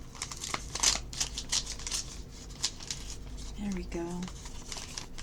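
Paper crinkles and tears as a mailed Christmas package holding a card is opened by hand, a string of short rustling crackles mixed with brief speech.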